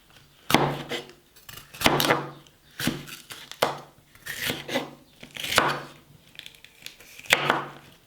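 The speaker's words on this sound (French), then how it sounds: "Il me faut un gros poivron comme ceci que je coupe simplement" A knife chops through a large bell pepper on a board in about ten crisp, close strikes, coming in quick clusters with short pauses between them, with no talking.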